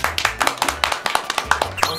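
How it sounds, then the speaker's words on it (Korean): Several people clap hands for a short burst to welcome a professional League of Legends player joining a stream, a steady patter of close, dry claps with a little voice underneath. "박수."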